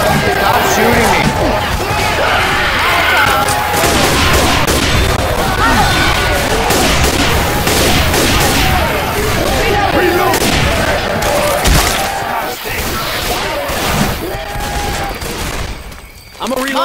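Rapid gunfire from several weapons in an online Left 4 Dead 2 match, dense and continuous under excited shouting from several players.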